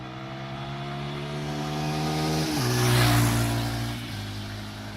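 A KPM200 Chinese motorcycle with stock exhaust pipes passes by, its engine drone swelling as it nears, dropping in pitch as it passes, then fading with a gear change. No one speaks.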